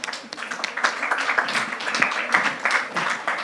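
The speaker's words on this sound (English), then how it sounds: "A very, very big applause, please." Conference audience at a low-carbon energy transition event claps together in a brief, dense burst of applause, moderately near, with a few voices mixed in.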